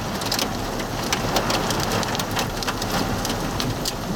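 Rain and hail pour down during a Missouri storm chase, a dense, steady patter with sharp scattered impacts throughout, close and fairly loud, with no voices.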